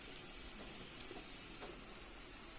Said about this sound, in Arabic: نزلت عليها بالرز وبسيبه كده عشان يفضل يتشوح مع الشعريه